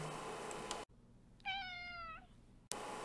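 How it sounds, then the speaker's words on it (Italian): A single domestic cat meows once, a clear, drawn-out tonal call standing alone between two short bursts of noisy background. "Il gatto miagola."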